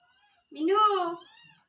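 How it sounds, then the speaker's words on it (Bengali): A pet cat gives one clear, drawn-out meow up close, rising then falling over about half a second, with quiet room tone around it. "মিনু ডাকাডাকি করতেছে, খাবে।"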